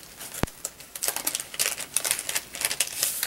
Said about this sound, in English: Sorry for the crinkling, guys.